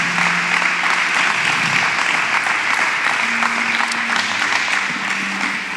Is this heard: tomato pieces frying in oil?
no